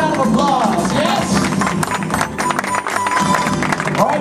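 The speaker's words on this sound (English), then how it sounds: "Give a round of applause, yes?" Crowd applause at a Disneyland Lunar New Year family event, a steady dense wash of clapping and cheering with busy background noise and music throughout.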